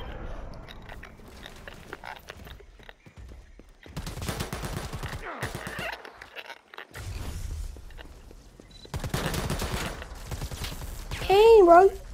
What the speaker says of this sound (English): Oh, he's shooting. He's shooting.